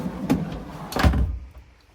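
A drawer in a 2019 Roadtrek Simplicity SRT Class B camper van slides and shuts, two quick close knocks with a sliding rub, fairly near and alone before fading to quiet.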